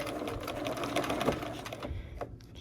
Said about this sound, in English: I'm getting a few stitches just set in there